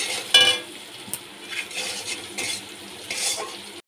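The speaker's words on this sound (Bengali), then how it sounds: "ভালো করে মিশিয়ে নিচ্ছি" Potatoes frying with turmeric and coriander powder are stirred in a pan, with a loud spoon scrape at the start, then repeated scraping and clinks over a low sizzle, ending in a sharp knock; nobody talks.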